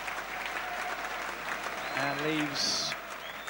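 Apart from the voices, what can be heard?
football crowd applause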